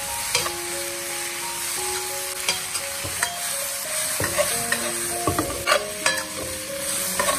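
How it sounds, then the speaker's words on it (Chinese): Cauliflower being stir-fried over high heat in a wok gives a steady loud sizzle with repeated scraping and tossing clatter from the spatula, with no talking. "炒香后直接倒入花菜，快速的不停翻炒，不停颠锅，开大火烧至2分钟。"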